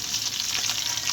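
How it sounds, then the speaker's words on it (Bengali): Pieces of mrigal fish fry in hot oil in a pan, a steady dense crackling sizzle that stays even and fairly close throughout, with no voices. "প্রথমে মাছগুলো তেলের উপর তেল গরম করে ভেজে নেব।"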